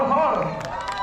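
A crowd at a neighborhood birthday gathering for a local doctor claps and cheers, a dense wash of applause with scattered shouts filling the short moment at close range.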